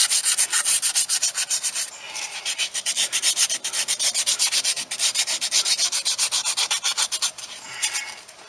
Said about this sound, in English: sand some of this crud off of this old piece of copper